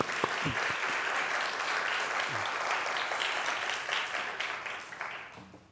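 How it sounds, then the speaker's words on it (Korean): A church congregation applauding during a Sunday worship service, dense, even clapping that carries on for several seconds before tapering off near the end. "우리 박수하겠습니다"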